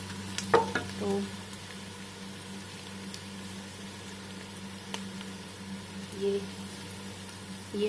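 Mutton sizzles in hot oil with light golden onions and spices, a steady frying crackle under a constant low hum, with a few sharper pops as pieces are stirred.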